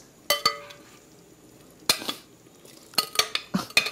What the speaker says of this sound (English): So I'm going to add the peas to the rice.